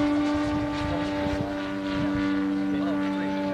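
A carbureted engine, on a 200 test, runs at half throttle with a steady, loud drone. The engine note holds strong tones throughout, and someone talks briefly over it.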